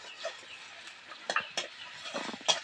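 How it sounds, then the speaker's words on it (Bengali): Chopped ginger sizzles softly in a hot pan of oil while a spatula stirs it, with a steady low frying hiss broken by several sharp scraping clicks near 1.3, 1.6 and 2.5 seconds. "আদাকে একটু নাড়ি চাড়িয়ে নেবো"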